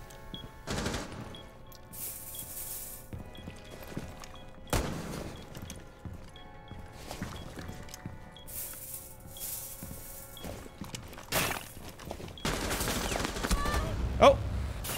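Gunfire in the Rainbow Six Siege video game, bursts of automatic fire and single shots spread across the round, some loud and close, others fainter, with brief talk in between.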